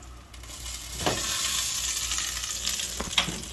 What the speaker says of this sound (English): the timer just went off, and you probably can still hear that sizzle.